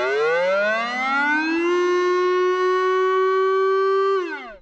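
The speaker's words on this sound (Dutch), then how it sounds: "De veiligheidsregio gaat mensen proberen te bereiken via de bekende sirene." A civil defense warning siren in Zeeland, Netherlands, rises steadily to a held tone, sustains it loudly for several seconds, then drops off at the end, heard alone with no talking.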